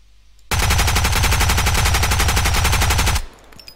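A rapid full-auto burst from an AKS rifle in Road to Vostok rattles loud and close for nearly three seconds, an even stream of sharp shots that stops abruptly.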